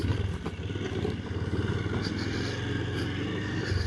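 A Honda XR125L motorcycle ridden off road on a rutted trail, its small single-cylinder engine a steady near putter throughout with a faint clatter over it and no talk.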